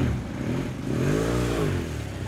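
A motorcycle engine revs up close, rising in pitch to a harmonic peak around the middle, then settling back into a steady idle rumble, with no talking.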